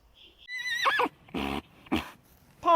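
A horse neighs with a shrill, shaky whinny, followed by a few shorter snorting calls.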